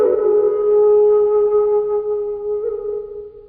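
A cheap $20 bamboo flute with a pentatonic scale, four finger holes and a thumb hole at the back, plays one steady, clear, breathy tone that holds for about three seconds, close and alone.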